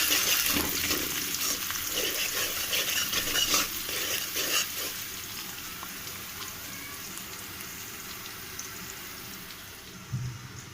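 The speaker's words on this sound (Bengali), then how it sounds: "তেলটা অনেক গরম হয়ে গিয়েছে, তো পেঁয়াজ দিয়ে দিলাম। পেঁয়াজ দিয়ে দিলাম, নেড়ে দিলাম।" Onions dropped into very hot oil for biryani, a loud crackling sizzle with brisk stirring scrapes at first, settling into a quieter steady fry with a late clink.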